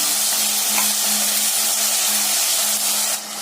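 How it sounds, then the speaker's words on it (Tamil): Ground tomatoes sauté in hot oil for a biryani with ivy gourd, a steady close, bright sizzle and hiss running without pause, with a faint low hum underneath. "நல்லா இந்த ஆயில்ல வதக்கி விட்டுக்கலாங்க."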